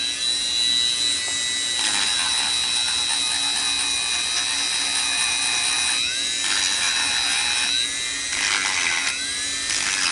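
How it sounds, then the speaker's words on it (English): A Dremel rotary tool sands and finishes the back of small resin hearts, whining steadily at close range with a high pitch that rises and falls in bursts as it presses against the resin. "This is how I'm finishing the back right now. Now, with the Dremel"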